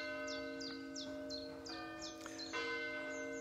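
A church bell of St. Cuthbert's Church rings in a steady series of clear, sustained strokes, moderately distant, with faint bird calls above and soft outdoor ambience.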